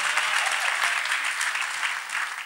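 A church congregation applauding together, a steady dense wash of clapping from many hands that continues for a few seconds without pause.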